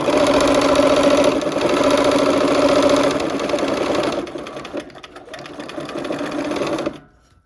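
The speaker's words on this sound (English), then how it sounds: "We're gonna sew these first 2 blocks of each row together." A sewing machine runs in a steady, rapid whirring stitch while sewing quilt blocks together, pausing briefly and slowing near the end before stopping, close and loud.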